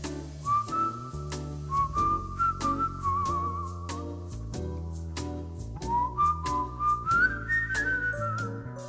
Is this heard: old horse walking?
no